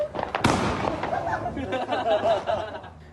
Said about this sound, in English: Fireworks launched like missiles